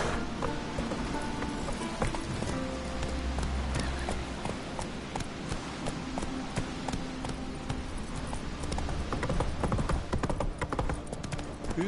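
A horse in The Witcher 3 video game gallops, its hooves beating a continuous fast clip-clop under layered game music and ambience, steady and close throughout without speech.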